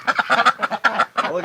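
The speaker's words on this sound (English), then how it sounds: "Oh, look at this goose right at the door." A goose honks close by in a winter yard with ducks and geese, giving a quick run of about eight loud, nasal calls with brief gaps between them.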